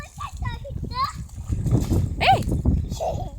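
Muddy water splashes and sloshes while children play in it, chattering and calling out over it, close by and lively throughout.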